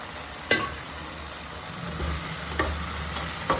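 Fried chicken pakoda is stirred in a pan, a low steady sizzle with a few sharp spoon knocks against the metal.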